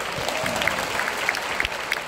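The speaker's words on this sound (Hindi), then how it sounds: "Sir के लिए आबारो जोरदार करताली please" An audience applauds at an indoor gathering, giving a short burst of dense, fairly loud clapping with a few sharper individual claps poking through.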